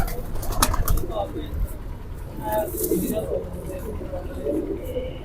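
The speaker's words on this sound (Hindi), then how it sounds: "ये अच्छा कबूतर है" A pigeon kept by a Sialkot pigeon fancier coos softly in low repeated murmurs, while people talk nearby and traffic noise and brief wing movement sound in the background.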